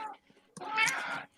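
House cat giving a short meow, a brief faint chirp followed by a louder drawn-out mew close by, with quiet room sound around it.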